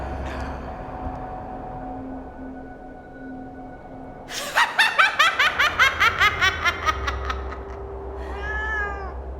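A black cat in an old studio radio drama meows amid eerie sound effects, a sharp pulsing burst of rapid repeated cries followed by a wavering, drawn-out cat call near the end.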